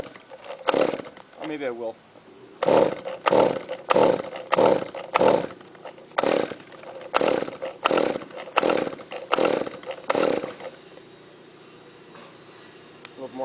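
A Shindaiwa string trimmer's small two-stroke engine sputters and catches in a run of loud revving bursts, then settles into a steady idle, with someone talking between the pulls.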